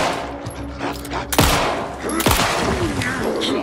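Gunfire from Alan Wake II rings out in a busy combat scene, with two loud, sharp shots standing out over a dense background of rumble and clatter.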